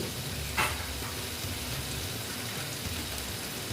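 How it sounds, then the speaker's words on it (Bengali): Spices with turmeric, tomato and salt sizzle steadily while being sautéed in a pan for a Bengali koi fish curry with potato and cauliflower, a continuous frying hiss with one brief louder scrape near the start. "এইবার আমি এটাকে ভালো মতন কষিয়ে নিচ্ছি"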